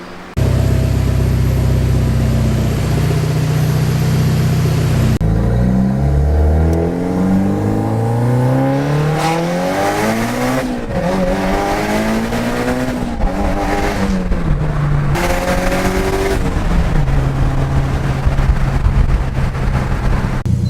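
A Mitsubishi Evo X fitted with a custom exhaust manifold runs loud and close, its engine droning steadily, then climbing and falling through several revs in a row before settling back to a steady idle.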